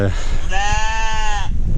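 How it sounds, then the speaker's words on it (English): Sheep bleating in a field beside a walking trail along Offa's Dyke: a single loud, close, wavering bleat of about one second, over steady outdoor background noise. "Some sheep in the field there"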